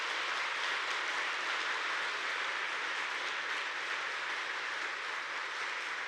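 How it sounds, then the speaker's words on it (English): Factory workers at a newly completed bus manufacturing facility give a steady, even round of applause, heard at a distance as a continuous wash of clapping with no talk. "So I just want to give another round of applause to the workers here."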